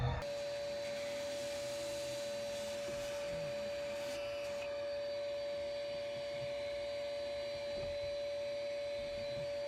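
A vacuum cleaner runs steadily and loudly inside a yacht closet, a constant whining drone with a sharp tonal hum that holds without a break the whole time.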